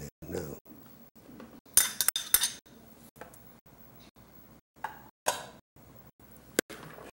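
Chopped green onion is stirred in a bowl with a utensil, giving bursts of clinking and scraping against the bowl between quieter moments, close and fairly loud.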